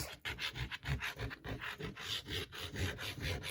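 Glue being rubbed by hand across a cardboard journal cover, a quick rhythmic rasping scrape repeating in short strokes, close and fairly quiet.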